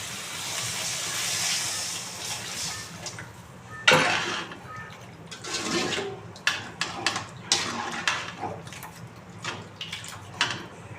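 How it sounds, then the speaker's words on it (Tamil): Water poured into chapati dough in a home kitchen, a steady splashing trickle for the first few seconds, then scattered soft wet knocks and pats close by, with no talk. "தேவையான அளவு தண்ணி ஊற்றிக்கலாம்."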